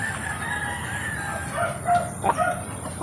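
Chickens cluck steadily in the background while a rooster crows loudly, with a louder crow standing out near the end.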